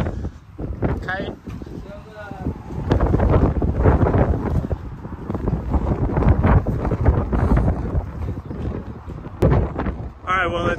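Strong wind buffets an outdoor microphone in loud, rumbling gusts that rise and fall for about eleven seconds, with a few faint voices and brief higher sounds mixed in.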